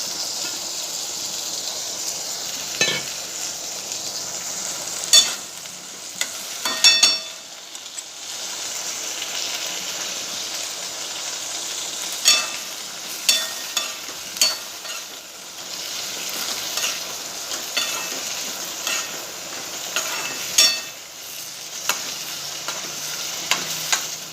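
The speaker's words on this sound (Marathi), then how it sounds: "छानपैकी भाजून घ्यायचं वांग मस्त तेलामध्ये चांगलं भाजून घ्यायचं" Pieces of eggplant fry in oil in a pan, giving a continuous close sizzle and crackle, with intermittent clinks and scrapes of a spoon stirring through the pieces, and no voices.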